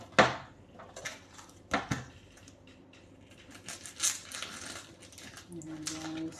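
A knife cutting ingredients on a board while cooking, a few sharp separate chops and taps spaced irregularly, fairly faint and close.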